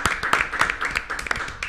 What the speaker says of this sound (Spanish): pido un aplauso porque está con nosotros el señor Alberto Lecchi